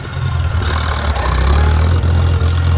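A tractor engine rumbles loud and close while reversing, its low, steady drone swelling as the throttle opens, with no voices over it.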